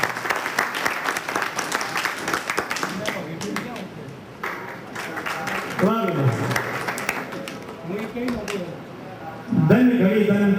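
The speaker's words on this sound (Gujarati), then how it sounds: "આપો આજે તાળી આપો મારા બાપુયા" Applause and clapping from a seated audience at a folk dayro stage event at a Chamunda temple courtyard, swelling in bursts across the clip with a host's voice speaking over it and a louder surge near the end.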